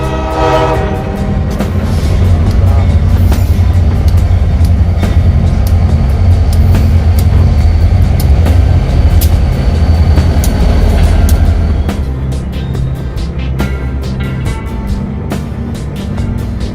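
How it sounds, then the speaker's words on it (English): A locomotive hauls a train of boxcars past at close range, a loud sustained rumble with clattering wheels and a horn sounding, easing somewhat after about twelve seconds but continuing to the end. "Another locomotive took over Bennett Bridges' train."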